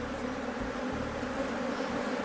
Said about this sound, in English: there is an aggressive beehive close by